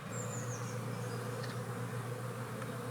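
Honeybees swarming around a newly built hive as it is opened, a dense steady buzz holding loud and close throughout, with a few higher whines of individual bees passing near.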